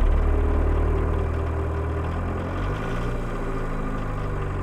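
A 1.6L turbo diesel car engine idles steadily at very low idle with a low, rattling rumble, close by and constant, with no voices.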